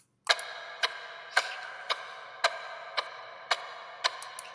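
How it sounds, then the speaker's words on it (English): A clock sample ticks in a steady, even rhythm, with eight sharp, clear ticks about half a second apart. Each tick is close and crisp over a faint ringing hum, with no voices. "we are going to talk about this clock sample."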